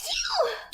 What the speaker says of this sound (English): That's a weird sneeze